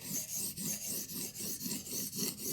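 Rhythmic rasping strokes of a knife blade drawn across a sharpening stone, about two per second, steady and close with occasional crunchiness, no voices.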